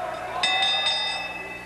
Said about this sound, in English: And the bell rings, and we have this ladies match underway